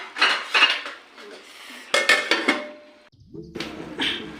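A metal lid goes onto a cooking pot of turai and arbi on low heat, with several sharp clanks and scrapes of metal on metal in quick bursts, close and clear, followed by a final rattle as it settles.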